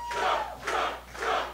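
A wrestling arena crowd chants rhythmically behind Bryce Donovan at a match against JT Dunn. Three loud, swelling rounds of voices rise and fall in a pulsing pattern.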